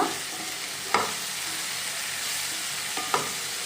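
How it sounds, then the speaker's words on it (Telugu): Crushed garlic and spices frying in hot oil in a pan, a loud continuous sizzle with a couple of sharp stirring scrapes. "ఇది బాగా ఫ్రై అవ్వనివ్వాలండి"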